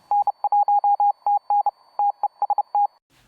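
Morse code beeps hidden as a secret message in the Flash game Red Remover: a clean, steady electronic tone pulsing in an irregular pattern of short and long beeps, loud and alone.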